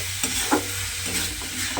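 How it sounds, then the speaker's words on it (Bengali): Stirring spices frying in a pan for a radish dish: soft scraping strokes repeat every half second or so over a steady, close sizzle. "এইভাবেই কিন্তু নেড়ে নেড়ে একদম ভাজা ভাজা মতো করে নিতে হবে"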